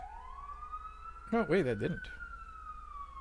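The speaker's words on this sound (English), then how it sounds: "Let me pause for that siren." Rising and steady wail of an emergency vehicle siren passing outside, heard faintly at a distance and held across the whole stretch, while someone briefly speaks over it partway through.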